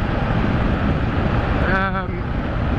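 Loud, constant wind roar buffets the microphone while riding a small Harley motorcycle, and the engine's drone runs underneath, with a brief rising tonal whine near the end.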